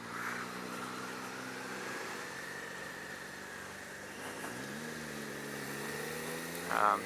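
A 2018 Suzuki SV650 motorcycle engine runs steadily throughout, holding a low, even tone with a slight pitch rise midway as the throttle opens, close and moderately loud with no talking.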